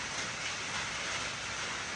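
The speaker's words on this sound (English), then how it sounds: "it's raining right now, and I would assume you can probably hear it in the video" Steady broadband hiss of rain falling continuously, even and unbroken throughout, with no voices.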